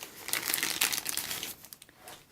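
Plastic packaging from a Nintendo Switch unboxing crinkles and rustles up close in quick, irregular bursts, loud at first and then fading to softer crackles.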